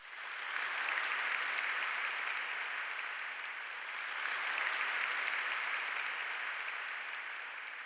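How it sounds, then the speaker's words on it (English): Applauding Rain Pitch, an ambience preset from Expand, gives a steady, dense hiss like heavy rain or a crowd clapping. It stays continuous and even throughout, swelling gently midway, with no other sounds. "for the ambience, I chose a preset from Expand. It's called Applauding Rain Pitch"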